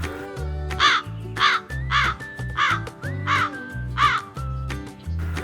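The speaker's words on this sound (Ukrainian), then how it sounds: "Ворона каркає." A crow caws loudly and repeatedly in harsh, evenly spaced calls over a low background hum, close by with no talking.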